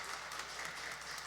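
A Sunday morning church congregation claps in a soft, steady wash of applause that sounds distant and faint, lasting only a moment.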